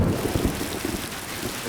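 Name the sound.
heavy rain falling outside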